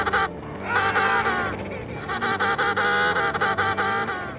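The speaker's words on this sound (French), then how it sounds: "Il suffit d'écouter le bruit que fait une mère qui a perdu son poussin." An emperor penguin mother that has lost her chick calls out in loud, drawn-out, wavering trumpeting cries, two long bursts back to back, close and unbroken.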